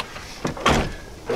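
A stiff Chevy truck door (1999–2006 GMC-era pickup) swings shut after a bolt-on hinge repair, giving a couple of close, solid thuds with brief mechanical clunks between them.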